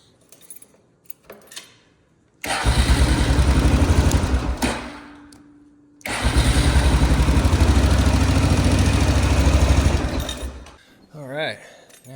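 A free four-wheeler ATV with a weak spring kit fix cranks to life and runs loudly at a steady idle in two long stretches separated by a brief stop, with short quiet moments and faint handling noise around them.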